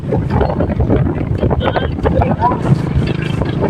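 Wind and choppy waves around a small boat heading home after selling puto, with steady wind buffeting and water rush throughout, loud and close, and a voice briefly audible underneath.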